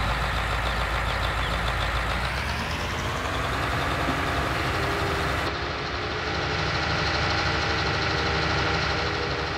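A tractor engine runs steadily, a dense, even mechanical drone that stays loud and close throughout, its bright upper edge dulling partway through.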